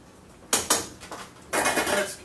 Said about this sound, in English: you just kind of gotta stir it a bit